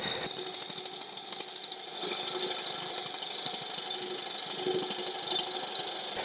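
A gouge makes a pull cut on a dried, rough-turned wooden bowl spinning on a lathe, a steady close scraping chatter over the lathe's motor hum with no talk.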